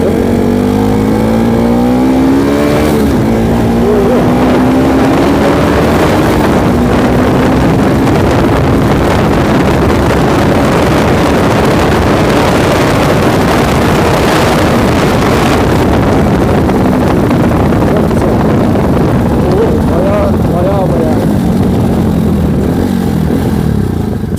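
Bajaj Pulsar 200 RS motorcycle climbing a hill, engine droning loud and steady with rising pitch as it pulls, heavily buffeted by wind noise on the microphone throughout.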